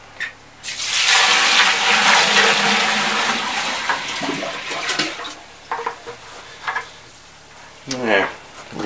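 A bucket of water, with a little snow in it, is poured into the tank of an off-grid wood stove sauna, making a loud rushing gush for about four seconds before it tails off and a voice talks.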